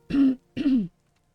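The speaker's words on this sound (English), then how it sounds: "Oh, sorry, I need to cough properly." A person clears their throat twice, two short rough bursts close to the microphone, with no speech in between.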